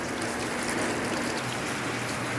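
Water pours steadily into an automatic washing machine as it fills, a continuous rushing, splashing wash of sound with no pauses or voices.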